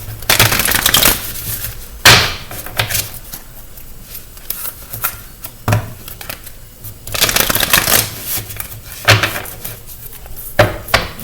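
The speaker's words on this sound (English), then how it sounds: "Let me shuffle again and see what the bottom card is after that." Repeated bursts of crisp, riffling tarot card shuffling, close and loud, with quieter rustling and handling of cards between the shuffles.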